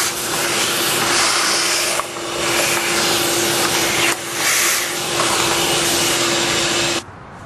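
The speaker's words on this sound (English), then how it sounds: "Vacuum cleaner again." A vacuum cleaner cleaning a wood pellet stove roars loudly and steadily with a constant whine, dipping briefly twice, then cuts off at the end.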